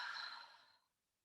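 A single long exhale during a yoga exercise, a soft breathy sigh, close and quiet, fading out to silence.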